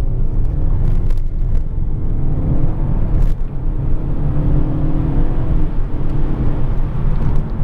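An Audi A5 Cabriolet 2.0T S Line with a 200-horsepower turbo engine and 8-speed gearbox accelerating hard in sport mode on a road, a loud continuous engine rumble and whir building throughout.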